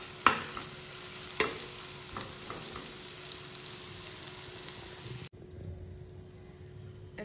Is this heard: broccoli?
yes